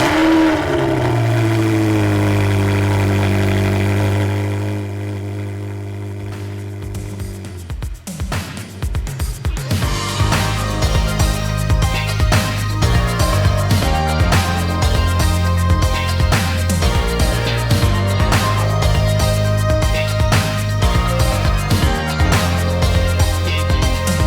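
A 2000 Ferrari 360 Challenge engine rises in pitch through a long rev, drops off, then settles into a loud, busy, steady roar.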